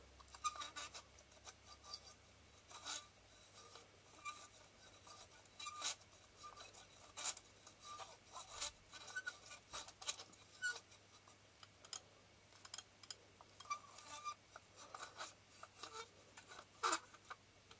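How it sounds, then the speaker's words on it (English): Parts of a Kern-Paillard Yvar 75mm f/2.8 AR lens are unscrewed by hand, giving faint, close scraping, rubbing and small ticking clicks that come in irregular bursts in a quiet room. "then I will just unscrew it."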